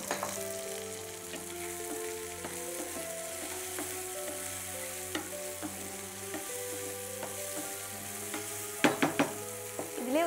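Onions and tomatoes frying in a pan make a constant crackling sizzle, with a few clattering stirs toward the end and no talking.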